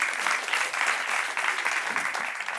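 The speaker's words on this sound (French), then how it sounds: "On l'applaudit très fort pendant qu'elle arrive." Loud, sustained applause from a studio audience on a French-language talk show, steady dense clapping that fills the whole stretch without pause as a woman guest walks on.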